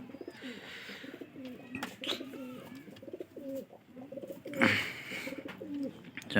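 Rajshahi Giribaz pigeons coo steadily in a series of soft, rhythmic throaty calls close by. A brief flutter of noise breaks in midway, and no one speaks.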